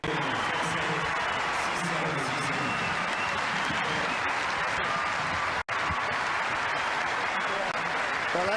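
Tennis crowd at the 2006 Monte Carlo final applauding steadily and fairly loudly for the whole stretch, with murmurs and commentary voices mixed in and one brief drop-out near the end.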